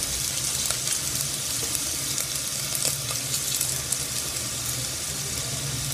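Whole spices such as dried red chillies, coriander seeds, cumin and mustard seeds frying in oil over low heat for a lentil rasam tempering, giving a steady, even sizzle close by with no talking.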